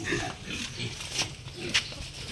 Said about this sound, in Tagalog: Then yung mga biik, tignan natin.